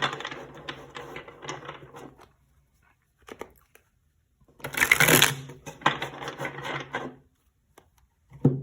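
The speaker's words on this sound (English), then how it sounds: "Let's get a couple more shuffles and then we'll get started." Tarot cards are shuffled up close in several brisk bursts of riffling and flicking, with short quiet gaps between them.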